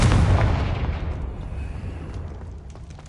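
A Confringo fire spell from the Hogwarts Legacy video game detonates in one loud, booming blast right at the start, then its rumble fades slowly away over a few seconds, with no voices.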